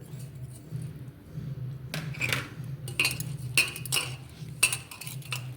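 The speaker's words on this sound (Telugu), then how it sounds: "ఇవన్నీ బాగా కలుపుకోండి" A spoon stirs sweet potato vada batter with cumin, fennel and salt in a bowl, giving a few separate clinking, scraping strokes at a moderate level over a steady low hum.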